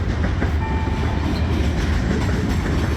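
Freight train 30T rolls past on the Norfolk Southern D&H line, a loud steady rumble of wagons with rhythmic wheel clatter and a faint squeal, close by and continuous throughout.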